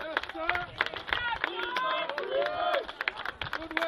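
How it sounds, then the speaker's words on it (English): Crowd at a high school varsity football game reacting loudly after a fumble, with excited shouts, whistles and scattered clapping rising over steady stadium hubbub. "And the crowd goes wild."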